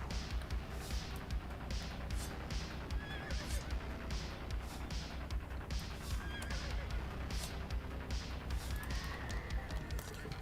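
A horse neighs and whinnies repeatedly in the sci-fi online game Entropia Universe, loud and near, with occasional hoof clatter and no talking over it.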